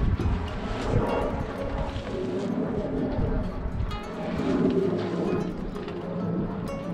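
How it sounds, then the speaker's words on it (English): Gusty wind buffets the microphone throughout, a loud, rumbling roar that rises and falls in waves. "as you can tell, it's windy today"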